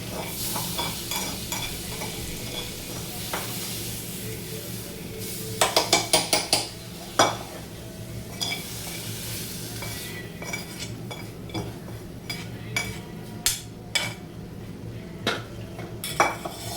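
Garlic fenugreek (lasuni methi) vegetable sizzles steadily while a utensil stirs and scrapes the pan, with a cluster of sharp metallic clinks around the middle and repeated spoon taps against the pan toward the end.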